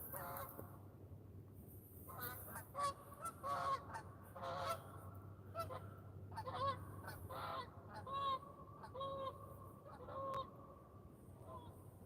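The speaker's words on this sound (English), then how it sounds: "We got our local pair of Canadian geese coming by." A pair of Canada geese honk repeatedly at a distance over a lake at a trout fishing spot, their calls coming in irregular bursts above a faint, steady background hum.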